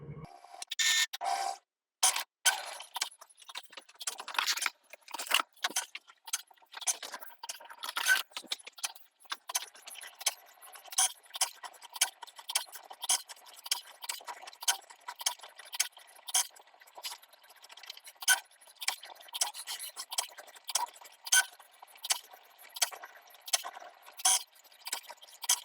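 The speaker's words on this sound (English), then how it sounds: "We're just gonna hit cut and it will start cutting." A Cricut machine cutting stencils on a strong grip mat gives a steady run of light mechanical clicks and ticks with brief pauses, faint and close, with no talking.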